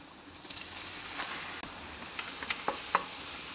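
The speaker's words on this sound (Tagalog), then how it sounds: "ilalagay ko na rito yung ating giniling, pinaghalong itong beef at chicken" Ground beef and chicken mince fry in a pan with a soft, constant sizzle. A few light clinks and scrapes of stirring come near the end.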